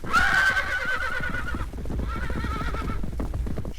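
A loud, near horse whinny rises and falls for about a second and a half. Steady clip-clop hoofbeats of a galloping horse run underneath it and keep going alone afterward, as a story sound effect.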